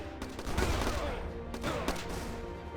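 Rifle squad gunfire in the Battle Islands: Commanders strategy game, a dense, continuous crackle of small-arms fire with bursts swelling around the middle and later, steady and loud throughout.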